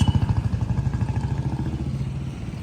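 A motorcycle engine chugs nearby with a rapid, pulsing rhythm and light clatter on a village road, fading slightly as it moves along, with no talking over it.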